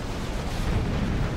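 A war factory blows up in Generals Zero Hour, a real-time strategy game, heard as a dense, low, rumbling explosion roar that holds steady for a second or so, fairly loud, with no voices over it.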